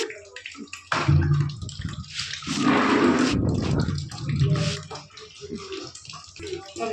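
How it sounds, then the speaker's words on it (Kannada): Dirty wash water gushes and splashes steadily as it drains from a new washing machine, a loud draining flow with sloshing, while a voice talks over part of it. "ಈ ಕೊಳೆ ನೀರನ್ನ ಮತ್ತೆ ತೆಗೆದುಬಿಡ್ತೀನಿ"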